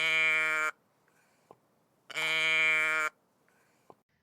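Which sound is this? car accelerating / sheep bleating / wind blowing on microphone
sheep bleating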